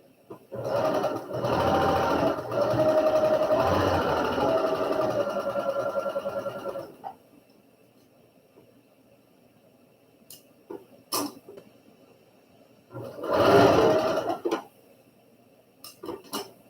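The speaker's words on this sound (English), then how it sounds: "I'm going to go give that a sew" Sewing machine stitching log cabin quilt block pieces, a steady close whirring run of about six seconds, a few clicks and handling sounds, then a second short burst of stitching.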